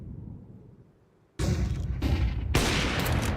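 Counter-Strike 2 gunfire in a competitive tournament match: after a quiet lull, two loud, sharp bursts of close shots ring out in quick succession, dense and crackling.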